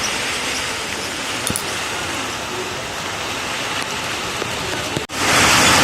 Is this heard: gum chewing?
no